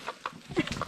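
Chickens clucking outdoors at a rural backyard poultry pen, several short close clucks and calls in quick irregular bursts within a second.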